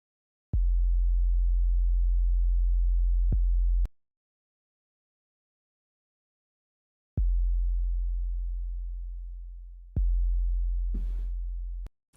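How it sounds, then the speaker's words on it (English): Synthesized 808-style bass hits boom deep and sustained, each long note decaying slowly, separated by silent gaps, with a short burst of higher noise near the end. "Let's just do a bit of an 808 kind of bass sound here."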